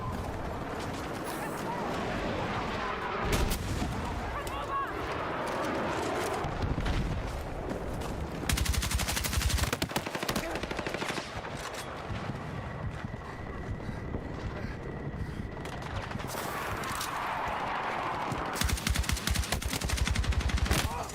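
Automatic fire from an AK-205 rifle in the video game Battlefield 6 crackles in repeated rapid bursts over a long stretch, loud and close, with other gunfire and ambient battle noise between volleys.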